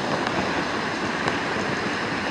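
Sea waves wash onto the shore in a continuous broad rushing wash, with faint gusts of wind noise over the surf.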